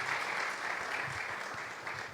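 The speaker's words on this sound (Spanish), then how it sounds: "yo quiero que le dé un aplauso al Cristo de la gloria" Steady applause from a church congregation on a morning service, continuous and fairly even clapping throughout with no break.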